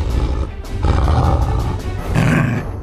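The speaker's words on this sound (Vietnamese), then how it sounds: "ngoài kia có chó sói đó" A cartoon wolf gives a loud, rough, sustained roar close up, growling in surges over nearly three seconds with no talk.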